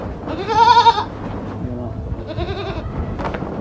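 A goat for sale at a home livestock market gives a loud, close wavering bleat, followed by a couple of fainter bleats and bits of background noise.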